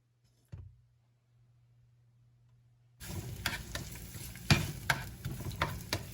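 Chopped garlic and a little onion hit a hot pan, starting after a quiet stretch with a low hum, then a steady close sizzle with scraping stirs and a sharp clack midway, no talking.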